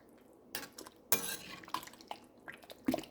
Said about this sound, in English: I'm going to put my lid on top of my chili.